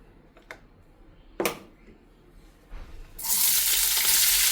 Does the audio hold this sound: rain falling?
no